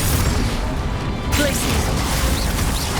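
A Bombarda spell explosion from Hogwarts Legacy on PS5 lands as a dense burst of crashing, booming impact noise, loud and continuous for a few seconds amid game effects.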